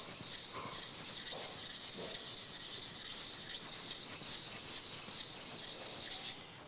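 A scraper being sharpened on a 500 or 1000 grit whetstone, a steady close rubbing rasp that runs unbroken, with a few faint strokes standing out.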